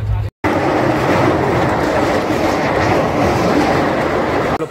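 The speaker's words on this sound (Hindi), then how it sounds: "मेरा ट्रेन निकल पड़ा है।" A train departs from Mathura station, giving a loud, continuous rumble with clattering wheels on track, heard close by from on board after a brief cut near the start.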